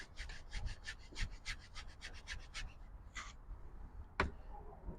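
A paintbrush scrubs mountain mixture paint onto canvas in a series of quick, rhythmic scratchy strokes, close and fairly quiet, with a brief sharper tap near the end and no talking.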